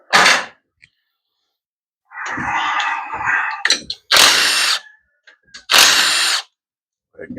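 A power tool whirs in short, loud bursts while removing a solenoid from a 4L60E transmission, several close spins separated by brief pauses and light clicks.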